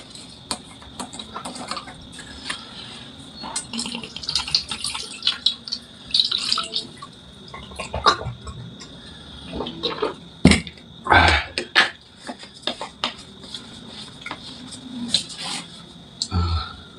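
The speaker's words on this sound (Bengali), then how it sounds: "একটু হাত ধুয়ে দিই।" Hands are washed under a running tap, with uneven splashing and dripping. The water falls in irregular bursts along with clatter from a sink and a few brief vocal sounds.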